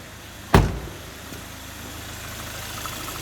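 Kia car engine idling in a garage with a water-in-fuel sensor fault: a steady low mechanical hum throughout, with one sharp knock or click near the start.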